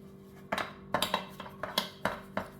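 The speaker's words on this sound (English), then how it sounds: "So we're going to be greasing our pan, and I'm using vegetable oil for this." A brush dabs vegetable oil into a metal cupcake pan: a string of about eight light clinks and taps in an uneven rhythm, close and fairly quiet, with no talk.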